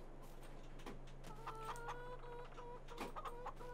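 Chickens in a farming video game cluck in short repeated bursts over a steady low game hum, a few calls overlapping at moderate loudness.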